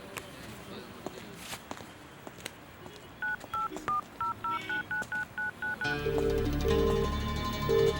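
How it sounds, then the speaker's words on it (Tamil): Telephone keypad tones beep in a quick series of about a dozen evenly spaced dial presses, followed by a louder rising rumble and a few short repeated tones, in a Tamil action film scene. "ஒரு ஃபோன் பண்ணணும்."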